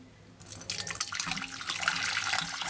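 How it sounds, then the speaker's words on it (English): Hot water poured from a duck-shaped teapot into a bowl over a dish holding a wax-clogged tester, a steady close splashing stream that starts after a quiet moment and continues throughout. "I'm just going to pour the hot water over the dish"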